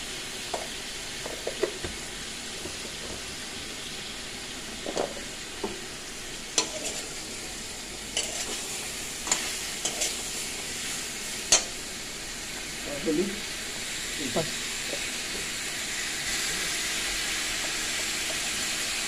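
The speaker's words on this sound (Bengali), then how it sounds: "সর্ষের তেলের মধ্যে ফোড়ন দেওয়া হয়েছে, শুকনো লঙ্কা আর পাঁচফোড়ন, আর এখন আমগুলো ছেড়ে দেওয়া হচ্ছে।" Mango pieces drop into hot mustard oil with dried red chili and panch phoron and fry with a loud, continuous sizzle. Scattered clinks and scrapes of stirring cut through, with faint voices underneath.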